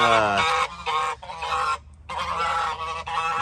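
Farmyard geese honk loudly and close by in a rapid series of harsh, nasal calls, broken by brief gaps, with no talking over them.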